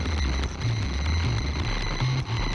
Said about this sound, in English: This is like some weird glitch effect.